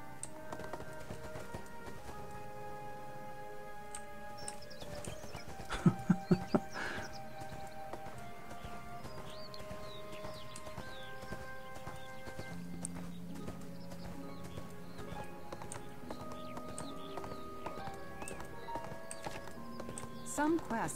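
In the fantasy game ArcheAge, a mount's hooves clop along at a quick, regular gait against background music and game tones, with a few sharper taps partway through.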